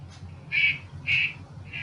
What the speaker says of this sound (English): those are the quacking of the small ducklings